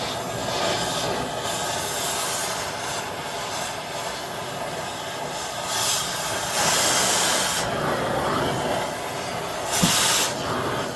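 A steady, loud roaring hiss of a cutting torch cutting off Chevy Impala rear strut parts runs throughout, with brief surges in intensity and a sharp click near the end.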